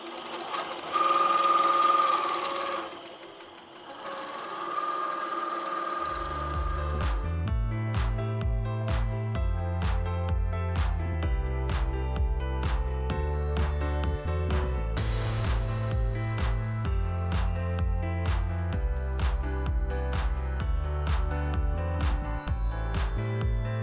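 A computerized quilting machine stitching a fall table runner, its needle pounding in a fast, regular rhythm close by for most of the stretch after a brief quieter start, with no talking.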